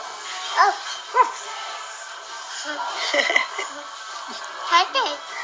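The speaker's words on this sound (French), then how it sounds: "Oui, c'est un petit chien." A small dog gives a few short, high yips and barks spaced apart, with a voice and other talk around them.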